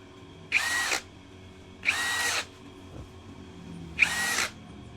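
A DongCheng cordless drill whirs in three short bursts, each spinning up and abruptly stopping as its anti-kickback cutoff triggers, with quiet pauses between.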